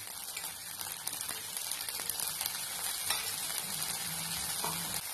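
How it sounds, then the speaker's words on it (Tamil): A tomato wheat dosa sizzles on a hot pan with oil or ghee poured around its edge, making an even close frying hiss dotted with fine crackles and small spatters. "இத சுத்தி எண்ணெயோ இல்லைன்னா நெய்யோ விட்டுக்கோங்க."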